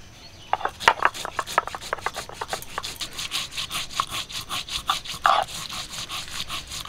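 Whole mustard seeds and cumin are ground together on a grinding stone, making a rapid series of rough rubbing and scraping strokes, close and fairly loud, continuing steadily without speech.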